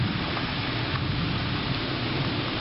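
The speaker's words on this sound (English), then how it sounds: "it's not raining as hard now" Steady rain falls during a flood on Storrow Drive in Boston, a dense, continuous hiss of drops on wet surfaces with a low rumbling wash underneath, evenly loud throughout with no voices.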